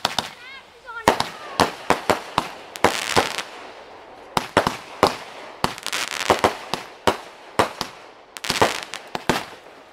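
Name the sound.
fireworks going off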